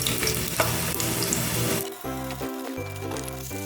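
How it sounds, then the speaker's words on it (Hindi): Onions dropped into hot oil crackle and sizzle loudly, with stirring clatter over the first half and a steadier bubbling fry afterward, close up. "अब ये ऑयल गर्म हो गया है तो हम इसमें प्याज ऐड कर देंगे"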